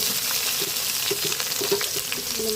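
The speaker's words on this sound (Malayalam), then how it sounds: "പാർട്സിൻ്റെ ലിവറുകളൊക്കെ വെളിച്ചെണ്ണയിലേക്ക് ഇട്ട് കൊടുക്കുകയാണ്" Chicken livers and parts sizzling and frying in coconut oil in a kadai, a steady crackling hiss with bursts of popping spatter, close and continuous.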